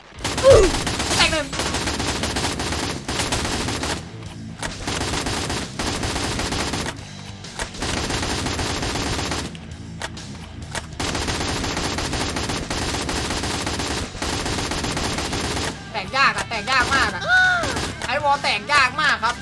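Rapid automatic fire from an M4A1 rifle in the mobile shooter Free Fire, sustained bursts with brief pauses between strings of shots, loud and close with game music or effects underneath.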